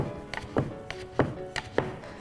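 A knife chops through folded soba noodle dough on a board in steady, trotting rhythm, with about seven crisp close taps in quick succession and no talking.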